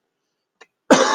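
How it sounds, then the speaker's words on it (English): A person who is under the weather coughs once, sharply and close, after a faint short throat sound in an otherwise silent room. "Pardon me for the coughs."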